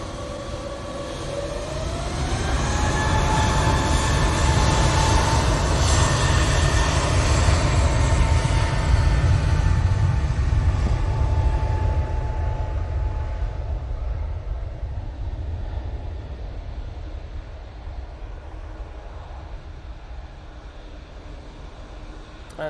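An airliner powering up for takeoff at Manchester Airport, engine roar swelling to a loud sustained rumble with a rising whine, then slowly fading as it departs into the distance.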